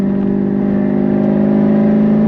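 A tuned car under moderate roll-on acceleration at part throttle, a strong steady engine drone with prominent harmonic tones rising slightly in loudness, heard from inside without voices.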